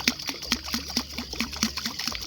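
Someone fishing for catfish knocks on the water surface, making a steady rhythmic series of close, wet taps and splashes about every quarter second, meant to mimic flowing water.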